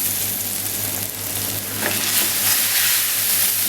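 Caramel made with butter and a capful of brandy bubbles and sizzles in a pan for an apple tart, giving a steady, loud, close crackling hiss that carries on without talk.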